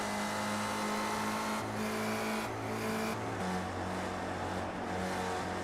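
An onboard race car engine in a sim racing game at Phoenix Raceway drones steadily at high revs, its pitch stepping through gear shifts as the car accelerates.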